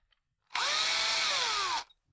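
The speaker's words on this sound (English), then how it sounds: "Load the tube into a power drill." A power drill whirs for just over a second, spinning a PTFE tube against a chamfering jig, its pitch rising then sagging slightly, close and loud, then stops.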